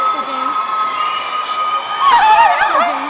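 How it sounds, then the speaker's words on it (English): Crowd cheering and applauding at the final of the Alberta Scotties Tournament of Hearts curling event in Wetaskiwin, a loud arena roar swelling over the last second, with steady tonal hum and whistles. "the crowd is going wild here in Wetaskawin"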